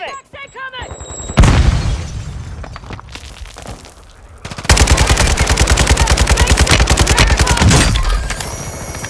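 Gunfire in Warzone 2, with rapid automatic bursts and heavy cracks that come in dense, loud volleys, plus a long sustained stretch of fast machine-gun fire, while players shout over the shooting.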